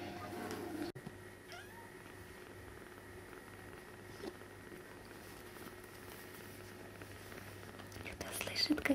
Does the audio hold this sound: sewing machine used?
no